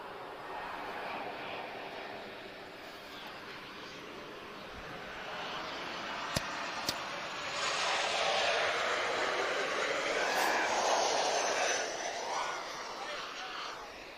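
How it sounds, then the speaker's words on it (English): A Ryanair Boeing 737 jet comes in to land at Lisbon Airport, a broad roaring engine rush that swells louder toward the middle and holds, with a person talking over it. "I've got 737 from Ryanair just about to sneak in as well"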